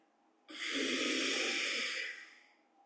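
A long, forceful exhalation through the nose during a pranayama breathing exercise, a loud steady rush of air lasting about two seconds before tapering off, close to the microphone with no talking.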